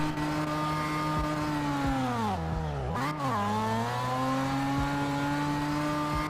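A drift car in CarX Drift Racing roars at high revs, the engine pitch dropping and swooping back up mid-slide before holding steady again, loud and close with no talking.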